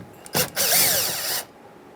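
A power driver whirs briefly as it backs a Phillips screw out of the door trim on a 2007–2015 Mazda CX-9, a short burst followed by a longer steady spin lasting about a second.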